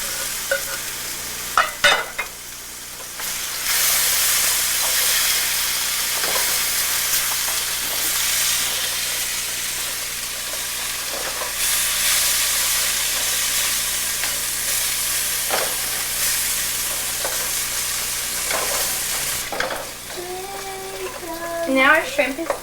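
Shrimp and bamboo shoots sizzling as they are stir-fried in a pan, a steady loud fry with scraping stirs and a few clinks of the utensil, no talking over it.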